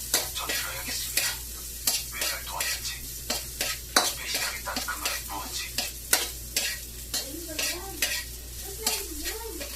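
Garlic fries in a pan for sinangag, a Filipino garlic fried rice made with leftover rice, sizzling steadily close by while a spatula scrapes and taps the pan in repeated strokes.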